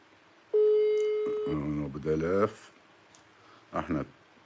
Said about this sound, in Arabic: احنا ندق عليه